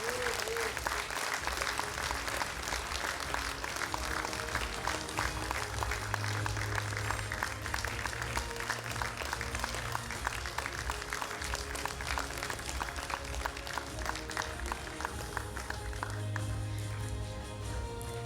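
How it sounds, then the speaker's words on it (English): At an A Levels graduation ceremony, an audience breaks into sustained applause for an award-winning student, a loud, even roar of many hands with some crowd noise and faint voices, continuing steadily for the whole stretch. "Give him a big round of applause."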